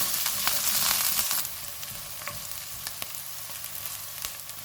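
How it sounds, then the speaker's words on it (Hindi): Chopped onion and a green chili frying in a pan on medium heat for potato Manchurian, a close, even sizzle with light stirring taps. "एक प्याज डालेंगे। 1 सब्ज़ मिर्च। इनको 2 मिनट तक फ्राई करेंगे।"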